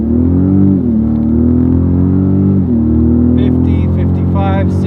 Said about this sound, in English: I'm just gonna punch it and kind of see how fast this thing is